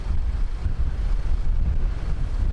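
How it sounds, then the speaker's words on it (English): Strong, steady wind at an airport buffets the microphone with a continuous low rumble and gusty roar throughout, with no voices. "it's just windy."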